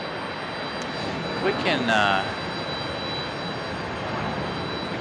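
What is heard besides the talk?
JetBlue jet airliner taking off at Raleigh Durham airport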